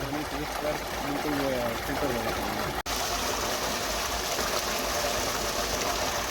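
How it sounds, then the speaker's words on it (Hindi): Tubewell water gushes steadily into a sugarcane field in Punjab, a continuous broad rushing flow with a pump engine droning underneath and someone speaking over it early on. "ये पानी भी चल रहा है इनका, इस टाइम लगाया हुआ पानी लग रहा है।"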